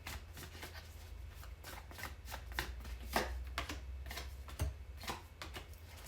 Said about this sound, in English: Every time I pull cards, I'll shuffle.